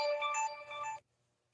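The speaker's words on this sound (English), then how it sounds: "I got a bunch of dinging on my phone" A mobile phone plays a bright, melodic notification chime of a few quick tonal notes lasting about a second, then cuts off to near silence, heard close and alone.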